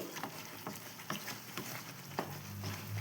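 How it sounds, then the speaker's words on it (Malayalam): A spoon stirring and mixing thick halva in a pan, soft repeated scraping strokes at an uneven rhythm with a faint sizzle underneath, fairly quiet and close. "എന്നിട്ട് നല്ലവണ്ണം ഇളക്കി യോജിപ്പിച്ച് കൊടുക്കാം"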